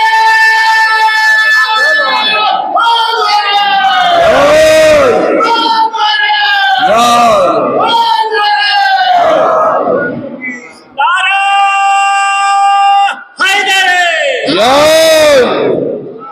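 A large crowd at a live majlis gathering in Delhi roars a religious slogan in unison, loud, sustained shouts that rise and fall in several long waves with brief gaps between them.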